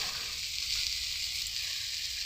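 Tomato and chili paste frying in a pan gives a steady, close, even sizzle that runs without a break and with no voices.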